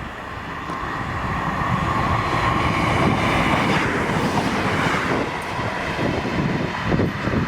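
A two-carriage Class 158 diesel train on the Edinburgh Waverley to Perth service passes through South Gyle with a loud rolling rumble and rhythmic wheel clatter that swells and fades slightly as it goes by.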